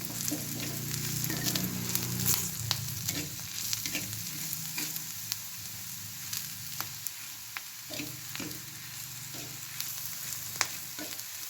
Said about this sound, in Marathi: त्याचसोबत ह्याच्यात कडीपत्तासुद्धा ॲड करतो आहे आणि हे सगळं मिश्रण व्यवस्थित हलवून घेतो